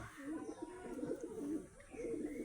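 Caged pigeons, including Saharanpuri and Shahjahanpuri breeds, give low rolling coos in a steady series, soft and close, with no other sound over them.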